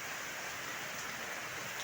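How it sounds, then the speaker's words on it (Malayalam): Rain pours down in a dense, even hiss, a steady wash of falling water with no breaks and no voices. "കാലാവസ്ഥ നല്ല മഴ തരുന്നുണ്ട്"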